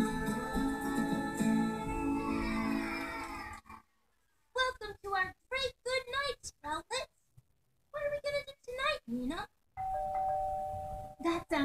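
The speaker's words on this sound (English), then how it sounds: "Sounded like the doorbell." A bright electronic doorbell chime rings in a children's bedtime television show, a sustained tonal ding followed by short bursts of animated character voices and another ringing tone near the end.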